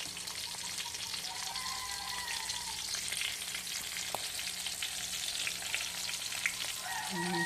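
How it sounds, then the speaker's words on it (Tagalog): Dried fish (tuyo) frying in a pan, giving a continuous bright sizzle and crackle of hot oil at steady, moderate loudness, with an occasional soft clink and no speech. "Prito na natin yung ating tuyo."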